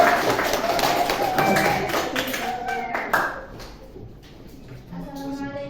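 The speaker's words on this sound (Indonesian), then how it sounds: "Tepuk tangan dulu buat kelompoknya Saski." A class claps hands for a student group coming up to present at a school lesson, a burst of clapping and taps up close over about three seconds, with voices talking over and after it.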